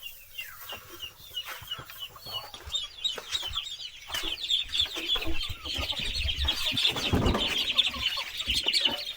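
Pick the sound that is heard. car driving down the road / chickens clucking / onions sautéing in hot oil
chickens clucking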